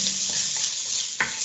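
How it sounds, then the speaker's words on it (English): Spices fry and sizzle in a soup pot over low heat, a constant soft hiss with a few light scraping stir strokes from a utensil against the pot. "So just gonna add those and then get this stirring a little bit."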